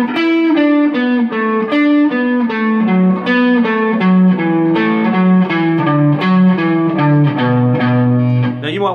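A clean, slightly effected instrument plays a steady run of single notes stepping downward in a scale sequence, evenly paced and alone.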